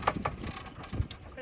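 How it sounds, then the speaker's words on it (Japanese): Mechanical clicks and ratcheting rattles as a side awning is cranked out from a Nissan Caravan camper van, a few close, quick knocks with voices talking nearby. "サイドオーニングもついているので、サイドオーニング出していきたいと思います。"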